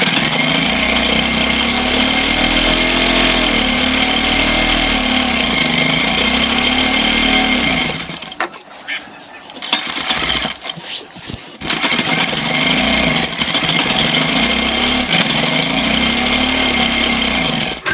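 A sewing machine runs along the edge of a kurta with a loud, steady motor whir, stops briefly partway through, then starts stitching again.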